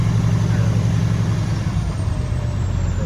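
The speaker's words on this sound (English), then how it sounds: "I just unhooked from the manure trailer and I'm now hooking up to the lowboy." A truck hooks up to a lowboy trailer after dropping a manure trailer, its engine holding a steady, loud, close diesel rumble throughout with no breaks.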